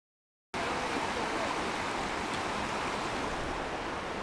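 Floodwater runs deep right up against a house, a steady broadband rushing wash that starts abruptly and holds constant, close and fairly quiet, with no talk over it.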